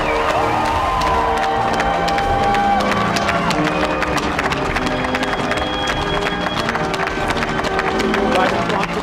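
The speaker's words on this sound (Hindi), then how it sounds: "जोरदार तालियों के साथ स्वागत किया जा रहा है जो बाइडेन का" Large outdoor crowd at a presidential inauguration clapping and cheering loudly and continuously as Joe Biden arrives, with shouts rising above the applause and voices mixed in throughout.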